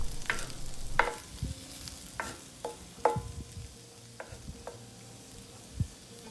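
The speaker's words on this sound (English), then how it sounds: "I'm just going to crisp it up" Meat crisping for a breakfast hash in a frying pan: a quiet background sizzle broken by sharp scrapes and clinks from stirring, spaced irregularly.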